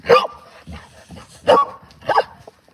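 A dog barks three times in loud, sharp bursts spaced about a second apart, up close indoors, with low muttering between barks.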